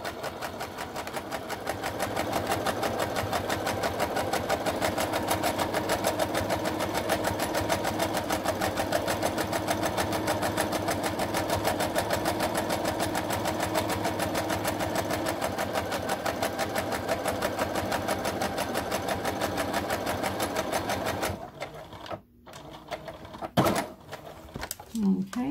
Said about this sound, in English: And I am sewing at my first guide marker.